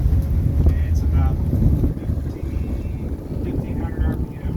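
A 2011 Chaparral 310 Signature boat's engine rumbles steadily at about 1500 RPM during joystick maneuvering, a low, continuous drone with wind buffeting the microphone and voices talking faintly over it.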